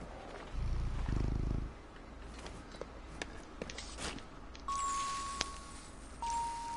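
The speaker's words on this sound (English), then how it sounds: "Yeah, it's a kitty." A cat in the video game Concrete Genie purrs in a low, rumbling burst near the start, then fades under soft game ambience with faint tones and small effects.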